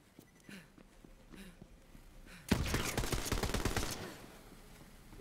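Rapid automatic gunfire in the video game Borderlands 3 rattles out in one sustained burst of about a second and a half, following a few faint, scattered shots, with no talk over it.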